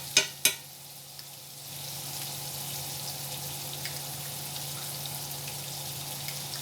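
Minced garlic hits a hot pan for oven-baked chicken and rice; two quick clicks, then a steady, soft sizzle hisses on alone.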